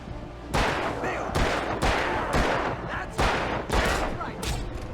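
Repeated gunfire in the video game Alan Wake comes as a run of loud, sharp bursts in quick succession, each with a brief decaying tail, under game ambience.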